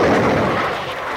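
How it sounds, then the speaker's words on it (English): A loud, deep rumbling boom of naval gunfire from warships offshore, filling the clip and slowly fading without any clear break. "That's what'll help shift them. Navy gunfire. Our warships out there are blasting at them."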